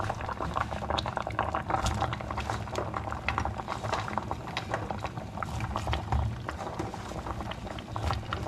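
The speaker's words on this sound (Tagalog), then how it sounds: "Yun, nakulo na." Broth made from leftover grilled fish boiling in a pot, a constant close bubbling and popping that continues throughout without pause.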